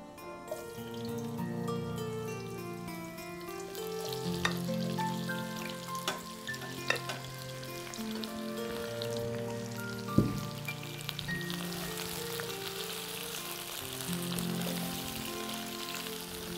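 Raw jackfruit, lightly boiled beforehand, frying in hot oil, giving a steady crackling sizzle with a few sharp pops and clinks of a utensil, while background music plays.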